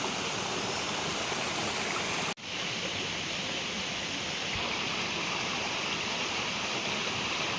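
Steady rushing of the Agos River flowing, close and constant, with a brief dropout partway through before the flow resumes.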